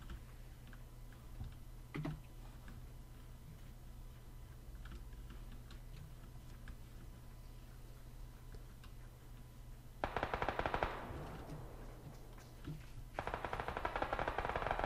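Video game gunfire plays as rapid automatic bursts, first a sharp volley and then another sustained rattle after a pause. Light clicking runs beneath the firing.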